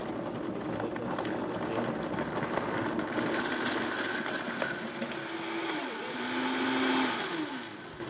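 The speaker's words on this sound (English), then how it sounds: "and blend it up." A blender whirs continuously through a raspberry beet smoothie with ice and vanilla, a steady grinding drone with a pitch that shifts and rises near the end before easing off.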